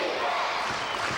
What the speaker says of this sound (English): Crowd here howling defense